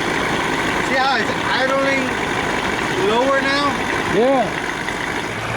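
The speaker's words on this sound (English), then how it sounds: "Let it warm up. See how it's idling" A Johnson 40 hp outboard motor idles while warming up, giving a steady low running drone with a faint whistling tone over it, and someone speaks briefly over the engine.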